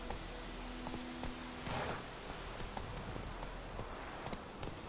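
Roach, a horse in The Witcher 3, gallops with quick, rhythmic hoofbeats, steady and fairly close, over faint ambient background.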